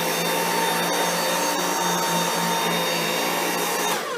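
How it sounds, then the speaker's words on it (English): A Dyson V8 Absolute cordless stick vacuum runs with a steady high-pitched whine and airy rush, close and loud with faint scraping ticks, then powers down at the end. "And if I turn the vacuum on,"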